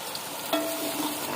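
Three chopped onions fry in hot oil, giving a brief, steady sizzle with a faint stir or clink partway through.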